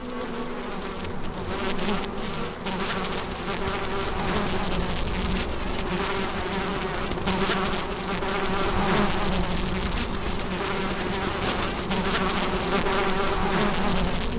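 Dense swarm of male bees buzzing loudly and continuously around a nest site in the Sonoran Desert, a thick steady drone close by with no pauses.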